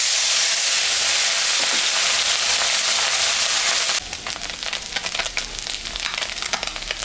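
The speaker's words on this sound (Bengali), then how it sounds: "এটা গরম হয়ে গেছে মাছটা এখন আমি ভাজবো" Fish, salted and coated with turmeric, frying in hot mustard oil: a loud, steady sizzle and hiss close by, turning busier and crackling after a few seconds.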